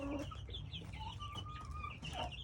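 Young guinea fowl keets on a farm give loud, repeated chattering calls mixed with clucking, sounding near and continuous throughout.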